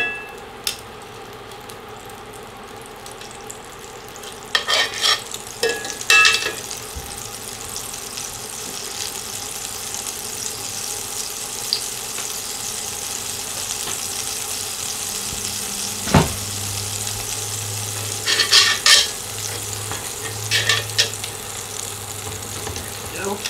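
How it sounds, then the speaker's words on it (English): Butter sizzles in a pan with salt and dried onion and a little oil, a continuous frying hiss with occasional stirring clinks and scrapes, close up, broken by brief louder clatters. "the butter is sizzling."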